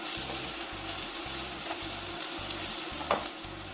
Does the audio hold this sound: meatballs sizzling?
yes